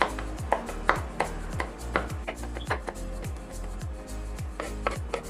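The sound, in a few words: chopping garlic with a knife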